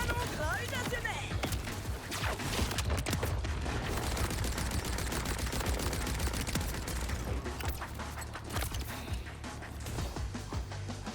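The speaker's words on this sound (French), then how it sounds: "Tir de canon gravitationnel." Rapid bursts of heavy gravity-cannon fire in Borderlands 4 crackle and thump continuously, dense and chaotic, with impacts and shouting voices under the barrage.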